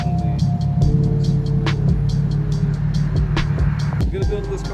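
A 2JZ Lexus GS300's exhaust, through a Megan Racing midpipe and custom single-exit N1-style muffler, rumbling loudly and steadily at idle, deep and close, with sharp ticking clicks over the drone.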